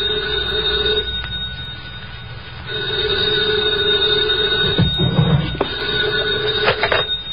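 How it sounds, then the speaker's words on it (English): An old-fashioned telephone bell rings at 2 a.m. in a 1950 radio drama, two long steady rings separated by a short pause, close and clear, followed by the handset being picked up with a clatter. "2 o'clock in the morning, the phone rang"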